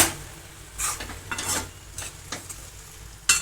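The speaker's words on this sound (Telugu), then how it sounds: "ఇలా కలుపుకున్న తర్వాత మెల్లంగా ఇలా కలుపుకోవాలి" Okra curry with fresh coriander being gently stirred in a pan, soft scraping strokes at a slow rhythm over a light sizzle, close and clear, with no talk.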